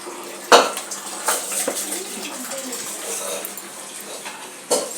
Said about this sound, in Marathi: भांडे घासती